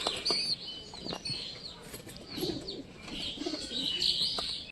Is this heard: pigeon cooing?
yes